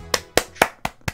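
One person clapping five times at a steady, moderate pace, each clap close and sharp, with nothing else heard.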